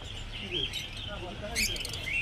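Lovebirds at a bird market in Garia give a few quick, high chirps and tweets over a soft market murmur, with a voice faintly underneath.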